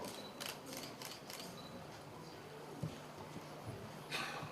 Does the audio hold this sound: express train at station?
no